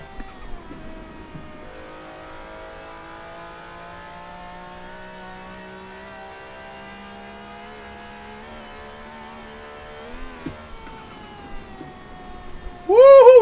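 Mercedes race car in Forza Horizon 4 roaring at high revs, a sustained engine whine holding steady then dipping and climbing through gear changes, with a louder burst at the end.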